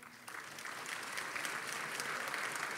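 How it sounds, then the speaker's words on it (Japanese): Dense, sustained applause from a large audience at a coming-of-age ceremony in Nagasaki, Japan, even and continuous from start to finish, with no voices rising above it. "新成人の皆さん感謝の気持ちを込めて拍手をお送りください"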